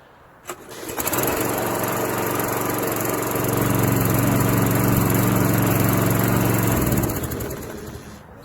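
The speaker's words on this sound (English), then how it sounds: "you definitely want a lawnmower that works." A Troy walk-behind self-propelled lawn mower starts with a pull and roars steadily for several seconds, loud and close, then winds down.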